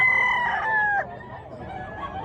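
A rooster crows loudly and close by at a poultry expo and auction in Barili, Cebu, one long drawn-out call with a falling end, followed by softer background noise.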